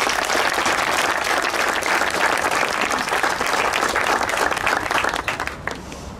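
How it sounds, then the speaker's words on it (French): Awards-ceremony audience applauds loudly and steadily for several seconds, a dense wash of many hands clapping that thins out and fades near the end. "On peut les applaudir."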